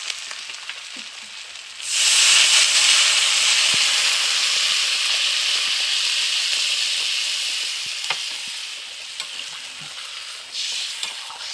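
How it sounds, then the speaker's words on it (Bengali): A sudden loud hiss as water hits a hot pan of spices with chilli powder for a stinging catfish and pointed gourd curry, settling into a steady sizzle that slowly fades over several seconds. "এবার আমি এর মধ্যে জল দিয়ে দেবো।"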